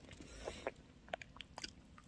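Someone biting into a Burger King Quattro Cheese Whopper, a faint close crunch followed by a few soft moist chewing clicks in a quiet room.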